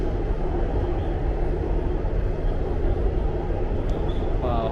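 Agra Metro train at a new, nearly empty station platform, a loud steady low rumble of the train running continuously close by, with no talking.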